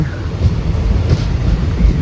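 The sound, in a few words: train curving into Edappally railway station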